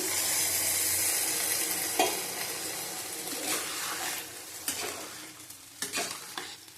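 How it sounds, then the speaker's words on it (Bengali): Water added to a sizzling papaya and potato curry in a pan, with a constant loud frying hiss broken by stirring scrapes and brief splashy bursts, close up. "জল দিয়ে দেবো জলটা দিলাম পরিমাণ মতো"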